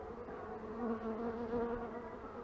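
Honeybees buzz during a hive inspection after a swarm: a soft, steady, close droning hum with slight swells in loudness and no talking.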